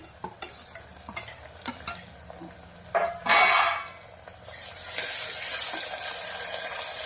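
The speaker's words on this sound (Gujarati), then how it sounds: "ટામેટાને 2 મિનિટ સંતરાવા દઈશું" Tomato going into fried onions in hot oil in a pan while cooking Rajasthani dal masala sabji, with stirring and clinks of a utensil, then a loud burst of sizzling that settles into a steady frying hiss.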